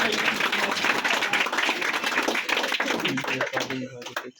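A crowd at a motivational talk claps together, a busy run of applause with distinct sharp hand claps and voices mixed in, dropping off abruptly at the end.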